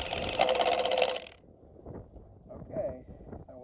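A Hercules 3/4-inch impact wrench, set to mode 1, hammers a bolt back in with a loud, dense burst of rapid rattling impacts for just over a second, then cuts off, leaving quiet handling noise.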